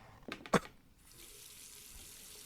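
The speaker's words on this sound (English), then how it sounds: "To rinse, there was a fucking faucet over there." A faucet runs in the puzzle adventure game The Last Door: a sharp splash and gush at the start, then a quieter, steady stream of water continuing to the end.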